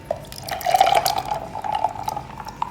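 Pineapple mixture poured over ice cubes in a glass, a thin steady trickle of liquid with small splashy drips, close and fairly soft, ending with a final drop.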